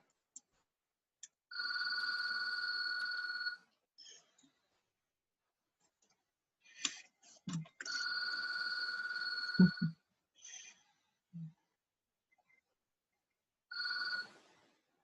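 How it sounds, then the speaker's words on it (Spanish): Telephone ringing in a quiet room, three electronic double-tone rings in bursts of about two seconds, interspersed with faint clicks and small handling sounds. "The phone just rang here."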